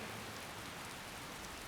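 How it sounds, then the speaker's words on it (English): Steady pouring rain in a video game, a dense, even hiss of falling water filling the whole moment without a break, soft and constant with no voices. "It was pouring rain."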